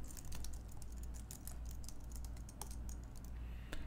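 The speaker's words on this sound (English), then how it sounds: "So I'll type var John" Quiet, close-up clicks and taps from a computer keyboard as code is typed, the keystrokes coming in quick irregular bursts with no talking.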